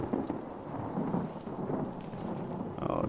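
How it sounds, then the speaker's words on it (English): Thunder in the horror video game Outlast, a low continuous rumble with a hiss of rain, faint and distant, with no voices over it. "Oh, great, there's thunder."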